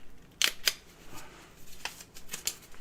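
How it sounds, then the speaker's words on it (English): Scissors cutting a taped paper Mobius strip into thirds, several crisp snipping and crinkling bursts at irregular intervals, close and moderately loud, with no speech. "this time I'm going to cut it in thirds"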